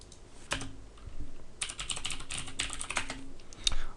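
Quick bursts of typing on a computer keyboard, clustered rapid keystrokes with a few isolated taps and short pauses, close and fairly quiet.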